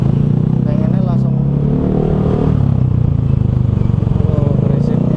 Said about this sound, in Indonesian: Oh, berisiknya motor.